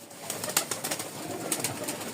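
Rajshahi Giribaz pigeons in a crowded loft give low, steady cooing, with scattered sharp flutters and clatters over a continuous murmur, fairly close and moderately loud.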